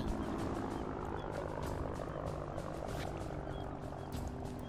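A helicopter in a video game sounds as a continuous, even rotor and engine drone, fairly loud and steady throughout, with no voices.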